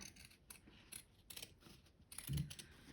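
Scissors cut through PUL fabric beside zigzag stitching with a few short, quiet snips and rustles, the strongest near the end.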